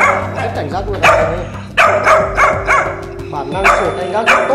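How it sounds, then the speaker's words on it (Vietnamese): A H'Mông bobtail dog barks in sharp, loud bursts on guard, with several barks in irregular clusters and a whimper or yip among them, over background noise and some voices. "Bản năng sủa canh gác rất tốt luôn."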